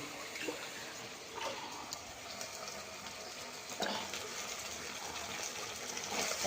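Water is poured into a pan of carrots, capsicum, onion and sauces, a quiet steady gushing pour with a couple of soft clinks and a slight swell near the end.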